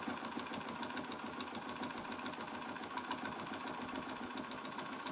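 A Bernina B770 embroidery machine stitches guidelines on a quilt block, a faint, rapid, even mechanical chatter running steadily without talk.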